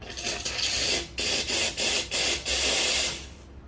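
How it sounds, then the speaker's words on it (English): Gemilai 3131A espresso machine steam wand purging, a loud close hiss broken into several short bursts with brief gaps, ending in quiet. "before you do any steaming, right, it's good to purge"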